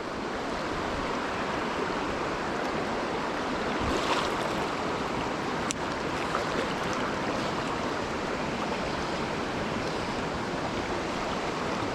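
The Delatite River in Victoria rushes past as a steady, broadband wash of flowing water, close and continuous for the whole stretch, with one brief knock partway through and no voices.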